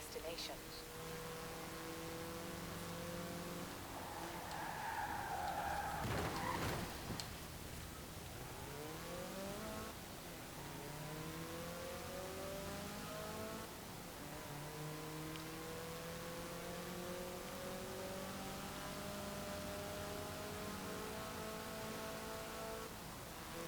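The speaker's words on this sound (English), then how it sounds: "the engine even sounds pretty good as well, so I'll let you hear that for a little bit." A supercharged 1989 Toyota MR2 SC engine in the video game Forza Horizon 4 revs up and down repeatedly, its whining pitch sweeping high then dropping, with a brief loud burst midway, no talking.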